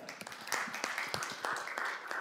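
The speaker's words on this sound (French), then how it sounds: "je pense qu'on peut l'applaudir" Audience at a talk on brain-computer interfaces giving brief, scattered applause, moderately faint, with individual claps audible through a short burst.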